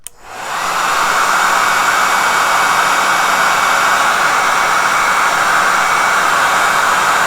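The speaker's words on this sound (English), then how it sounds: "this is where I would use the blow dryer" A hair dryer blows steadily on a wet watercolor painting of wildflowers, a loud continuous airy whoosh that starts abruptly and holds constant from close by.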